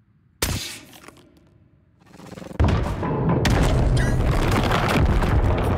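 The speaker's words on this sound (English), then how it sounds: "What if I just throw a grenade there?" A grenade explodes in the video game Scorn: a sharp, loud blast followed by a decaying rumble, then a second heavy burst that swells into sustained roaring debris and crackling noise.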